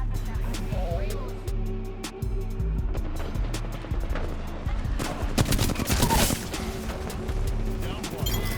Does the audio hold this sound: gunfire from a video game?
yes